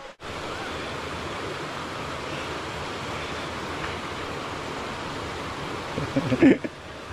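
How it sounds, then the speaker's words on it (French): A large mountain waterfall roars as a steady, broad rush of falling water heard at a distance, continuous and unchanging, with a brief rustle near the end. "regardez la grande cascade là-haut là"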